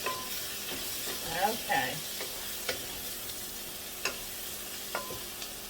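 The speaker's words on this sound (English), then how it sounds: "Let's give our sausage and onions a stir." Sausage and onions sizzle steadily in a pan for a smoked sausage vegetable soup, with scraping stirring strokes and a few sharp utensil clicks against the pan; a voice speaks briefly over the frying.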